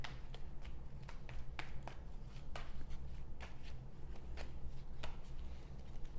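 Tarot cards being shuffled by hand during a weekly reading, a steady run of crisp riffling snaps and soft slaps over low room hum, close and fairly quiet, with no voices.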